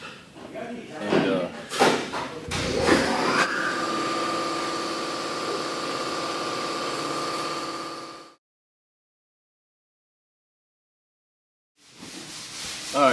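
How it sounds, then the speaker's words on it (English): An air compressor runs in a garage during a 1968 Mustang convertible restoration: a steady mechanical drone with a tonal hum that cuts off abruptly, after a few clunks and knocks at the start. "Also forgot to cut the compressor off, but it's all good."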